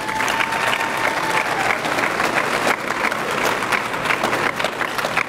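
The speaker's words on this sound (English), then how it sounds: "A round of applause for them." Audience applauding speakers at a fall 2018 career expo, a loud, full round of many hands clapping that stays dense and even for several seconds without speech over it.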